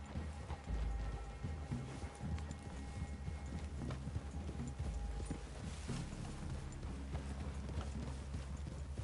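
Horses' hooves clip-clop at a steady walk in a video game, a continuous rhythmic plodding over ambient background with occasional faint movement noises and no speech.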